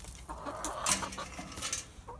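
Chickens clucking inside their coop, a few soft, close clucks and murmurs in quick bursts, quiet and alone.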